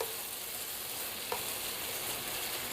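Food browning in a frying pan makes a constant, moderately quiet sizzle with one small click partway through. No one speaks.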